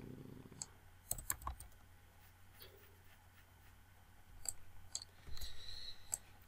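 Computer keyboard typing during structural design software work: faint, sparse key clicks in irregular short bursts over a quiet room hum, with a brief low murmur near the start and no clear speech.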